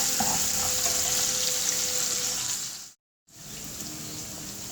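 Whole spices gently frying in a pan for a cabbage curry, a steady close hiss and crackle that runs on with a brief total dropout partway through.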